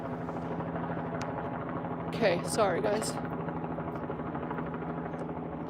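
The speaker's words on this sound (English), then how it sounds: "You can again hear the helicopter overhead." Helicopter circling overhead at the scene of a shooting in Salt Lake City, a steady low rotor drone running throughout beneath a voice that speaks briefly, with a couple of short louder swells in the middle.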